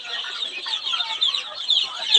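Native desi chicks cheeping and clucking continuously on a farm, a dense, high-pitched chorus of many small birds close by with no pauses.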